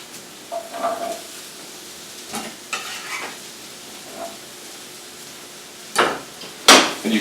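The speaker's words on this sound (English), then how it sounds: "So drop your mushrooms into the pan." Button mushrooms dropped into a hot pan with a little spray oil, giving soft stirring scrapes and light sizzles that end in two louder bursts of spitting sizzle near the finish.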